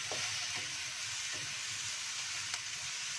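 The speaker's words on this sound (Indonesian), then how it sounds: "Tuangkan kedelai yang sudah dicuci tadi, direndam kedelai." Washed, soaked soybeans fry in a pan, giving a soft, even sizzle with faint stirring scrapes and ticks, quiet and close.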